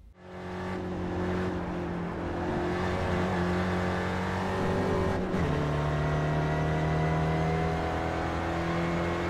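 Open-wheel SRF race car engine from iRacing at Spa-Francorchamps, droning loud and steady near the camera with a brief dip around the middle before pulling hard again, no talk.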